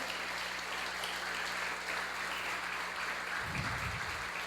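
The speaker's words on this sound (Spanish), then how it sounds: "Dale un aplauso a Jesús." A congregation at a church service applauds, a dense, even stretch of clapping that lasts throughout, with a low rumble rising near the end.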